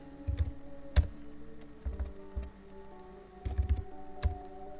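Computer keyboard typing a formula into Google Sheets, with short bursts of clustered keystrokes separated by pauses, close and fairly quiet, over faint steady background hum.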